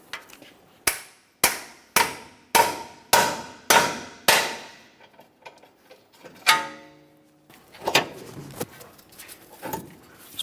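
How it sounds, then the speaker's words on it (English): A run of sharp, evenly spaced hammer strikes on a pickle fork separating a ball joint from the lower control arm of a Subaru Outback, about eight blows, followed by scattered clanks and scraping of tools. "Continue on with a hammer and a pickle fork. We're going to separate the ball joint from the lower control arm."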